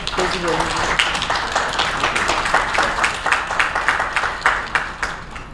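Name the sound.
applause for speaker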